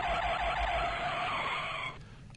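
Car brakes locking up with a sustained high tyre skid squeal that holds steadily for about two seconds, then cuts off abruptly into a faint residual hiss.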